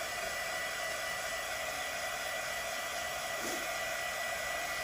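A heat gun blows steadily throughout, drying fluid art acrylic paint with dots beside burnt sienna on a sunflower painting; a loud, even broadband hiss and whoosh with no pauses.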